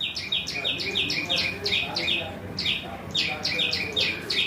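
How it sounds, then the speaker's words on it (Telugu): Little sparrows squabble in the branches of a drumstick tree in a backyard, giving loud, bright, rapid chirps in repeated bursts throughout over a faint background hum. "చిట్టి చిట్టి పిచ్చుకల సౌండ్ వినిపిస్తుందా మీకు?"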